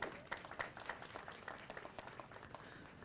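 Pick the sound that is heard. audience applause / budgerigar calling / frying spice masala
audience applause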